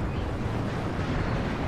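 Artillery fires in the video game WARNO, a deep, continuous booming rumble that stays loud and dense throughout, with no voices over it.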